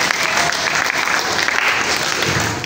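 A church congregation claps together for Jesus, a dense and steady burst of applause that fills the space for a few seconds.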